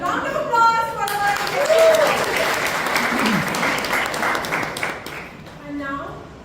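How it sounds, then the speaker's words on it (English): Warm applause from the audience at a Toastmasters club meeting, a dense burst of clapping that swells and then tapers, with a voice speaking over it and some brief tonal sounds. "Round of applause for our"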